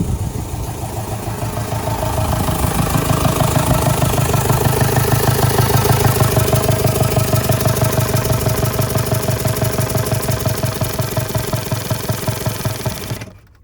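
A swapped VW TDI diesel engine with fresh glow plugs fires quickly after sitting for days and settles into a loud, steady, rhythmic diesel clatter up close, running for over ten seconds before cutting off abruptly.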